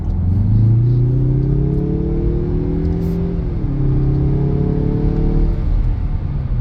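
A 2023 Mazda 3 Turbo accelerates hard in sport mode, its engine droning loud and close with a rising pitch, a brief dip as the gear shifts, then climbing again while road rumble sits underneath.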